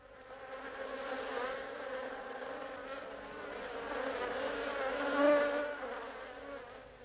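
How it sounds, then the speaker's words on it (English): Honeybees buzz around a battery of hives in a traditional South German bee house, a steady swarm hum that swells and fades with individual bees droning near and past. "The bee house is home to a battery of hives."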